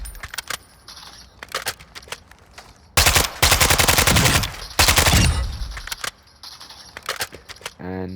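AK-74U submachine gun firing in Call of Duty, two loud sustained full-auto bursts of rapid, evenly spaced shots, with scattered clicks and handling noises before and after and a brief tonal sound at the end.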